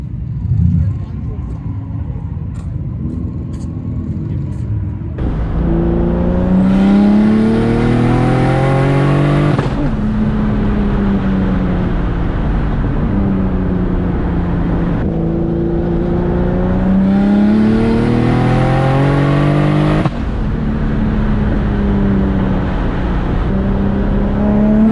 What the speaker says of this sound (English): The car's been idling for like 30 minutes